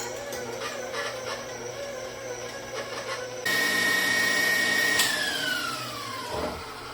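An electric mixer whipping a powdered sugar topping, a steady motor whir that rises to a loud high whine partway through, then drops in pitch as it slows down.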